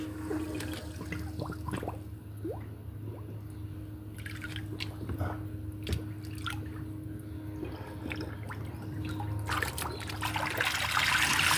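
A Pompam robotic pool cleaner spraying water, a soft trickling and splashing with a steady low mechanical hum from its pump underneath, quiet and continuous, growing slightly louder toward the end.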